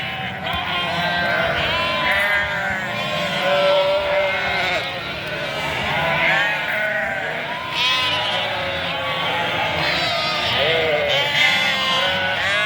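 Many lambs bleat continuously and overlapping, a dense, close chorus of high calls with faint voices mixed in.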